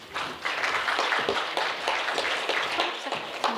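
Audience clapping for a guest lecturer being introduced at a beauty-industry forum session in Jeju, a dense, steady patter of many hands filling the hall at moderate volume without a break.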